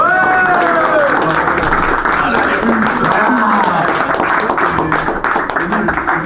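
A crowd claps loudly and continuously for a team announced at a local football tournament draw, with voices and cheers mixed into the dense applause.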